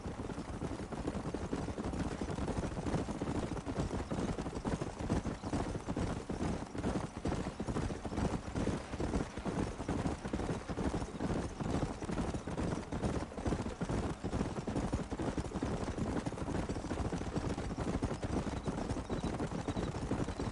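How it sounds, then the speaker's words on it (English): Steady rapid hoofbeats of galloping horses in the video game Red Dead Redemption drum continuously, with a dense rumbling texture and no talking. "There's the horses! Get that lasso ready!"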